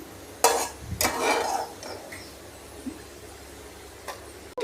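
Fried bitter gourd pieces for kakarakaya karam scraped from a pan into a bowl, heard as a few sharp metallic scrapes and clinks of a spoon on cookware, with quieter taps between them.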